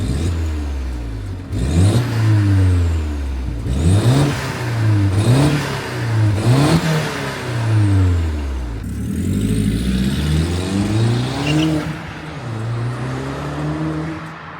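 Catless Mk1 Audi TT engine revving repeatedly, loud and close, with rising and falling pitch sweeps in a steady series of blips and a deep exhaust note throughout.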